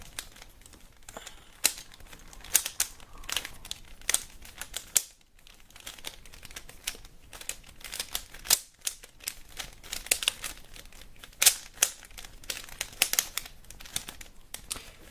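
A mirror puzzle cube is scrambled by hand, its plastic pieces making rapid, irregular clicking and rattling in close bursts, with one brief pause partway through and no talking.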